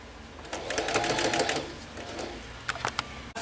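Sewing machine stitching fabric for a scrunchie, a fast rattling run of needle strokes over about a second and a half, then a few short bursts, close and fairly loud with no talk.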